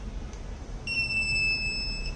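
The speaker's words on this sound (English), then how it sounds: "there are two different beeps provided for the buzzer as well as ultrasonic sensor" A buzzer on a blind stick with an ultrasonic sensor and RF remote sounds one sustained, shrill electronic tone that starts abruptly after a faint low hum and holds steady to the end.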